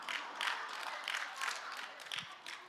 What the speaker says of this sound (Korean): 또 무슨 또 박수를 그렇게 치신디야